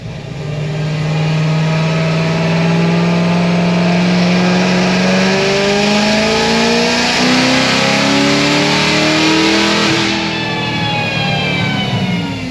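A 1000 hp Corvette C7 Z06 with a boosted engine revs hard on a dyno, a loud, close, continuous pull that rises steadily in pitch for about ten seconds before easing off.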